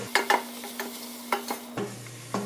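Spices cooking in a pan with two tablespoons of curry, stirred by a utensil, giving a few distinct scrape-and-clink strokes over a faint sizzle, close and fairly quiet.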